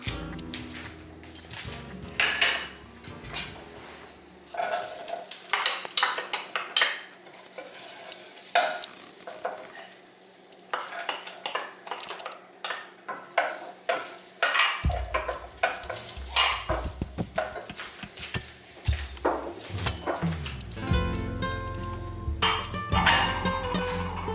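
Chopped onion and garlic dropping into a pot and frying, with a busy sizzle, repeated utensil scrapes and clanks against the pot, close and continuous.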